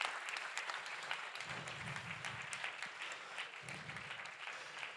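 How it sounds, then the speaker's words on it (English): Warm applause from the audience at a Speck&Tech tech meetup, a steady, moderately loud patter of many people clapping in a room, lasting throughout without speech. "all of them deserve a very warm applause from the room"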